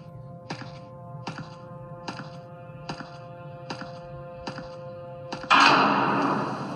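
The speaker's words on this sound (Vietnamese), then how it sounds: "Đóng những cánh cửa này vào." Doors slamming shut one after another in a horror video game, six evenly spaced hard thunks, followed by a sudden louder burst of rushing noise that fades slowly.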